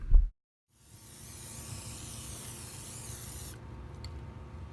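A short knock, a pause, then a steady hiss of a Flex Seal aerosol can spraying for about three seconds before it cuts off.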